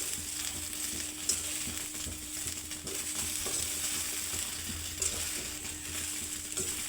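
Green peas roast in a thick, heavy jaggery kadai over a high gas flame, with continuous scraping and rattling stirring strokes over a soft sizzle and a faint steady hum.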